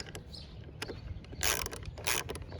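Ratchet wrench tightening the bolts on a 2007 Cadillac DTS power steering pump, heard as quick clicking bursts and metallic scraping in short close-up pulses, with louder bursts near the end and no talking.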